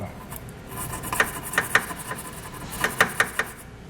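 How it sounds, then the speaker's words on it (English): A toothbrush scrubbing dirt and surface rust out of a bolt hole on a 2019 Ram truck frame, heard as a few short rapid bursts of close scratchy rasping separated by brief pauses. "take a toothbrush or something like that, and really just work that hole to get any potential dirt, debris, surface rust, whatever may be inside of there out"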